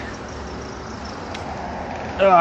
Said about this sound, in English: a lot of traffic going by.